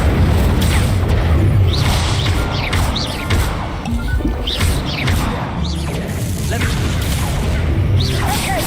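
Incendio fire spell cast in Hogwarts Legacy amid a fast battle: repeated whooshing bursts and crashing impacts over a dense, rumbling background of combat effects, loud and continuous throughout.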